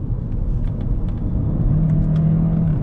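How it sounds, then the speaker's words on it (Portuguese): The petrol engine of a Volkswagen Golf GTE hybrid hums and rumbles steadily at close range, with a low droning tone emerging as the motor settles into a constant run. "Agora o motor a combustão acordou"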